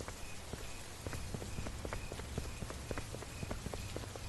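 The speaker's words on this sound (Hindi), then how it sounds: "बारिश पहले के मुकाबले में बहुत तेज हो चुकी थी" Dense, steady patter of rain falling hard, with scattered sharper drips and splashes standing out close by throughout.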